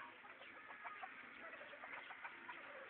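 Chickens cluck softly and repeatedly at a short distance, a faint steady string of calls with no talking.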